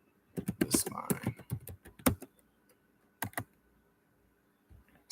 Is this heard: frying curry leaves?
no